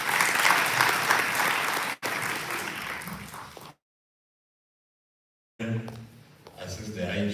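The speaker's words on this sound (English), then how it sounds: "A round of applause, please." An audience applauds at a World Day of Safety and Health at Work commemoration, a loud burst of clapping that fades away and stops into silence before a voice begins speaking.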